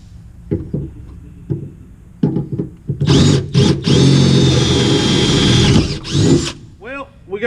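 A power drill with a step bit bores through the metal of a trailer with a loud, sustained grinding whir. Short clicks and trigger bursts come before it, and a voice speaks at the very end.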